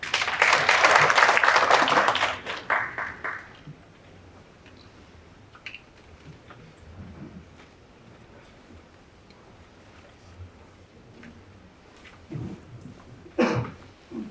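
Loud burst of audience applause at an energy technology conference, filling the opening two seconds before quickly dying away into quiet room noise with scattered faint sounds and a short voice near the end.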